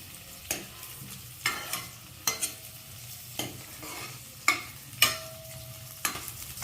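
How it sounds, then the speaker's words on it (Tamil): Onions sautéing in a pan for a Tamil manathakkali keerai soup: a steady low sizzle broken by about a dozen sharp, close scrapes of a spoon stirring against the metal, no voices. "வெங்காயம் போட்டாச்சு, தக்காளி போட போகணும். கொஞ்சம் வெங்காயம் வதங்கணும்."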